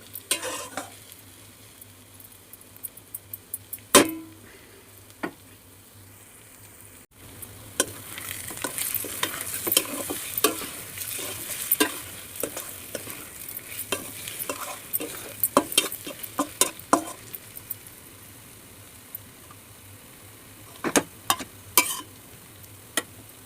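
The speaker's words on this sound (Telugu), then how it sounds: "అంతా పట్టించుకుని దీనికి కలుపుకుని బాగా వేయించుకోవాలండి" Eggs frying with masala in a pan, a continuous sizzle broken by frequent clinks and scrapes of a spoon stirring against the metal, close and busy throughout.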